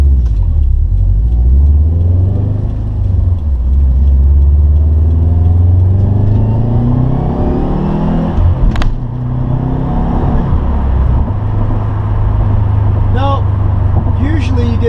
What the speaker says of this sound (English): Get that blow-off sound when you go from first to second.